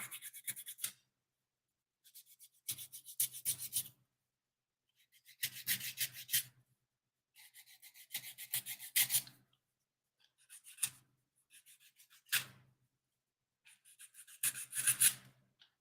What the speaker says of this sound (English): Sand off the char.